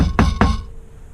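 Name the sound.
tapping intake manifold corner to loosen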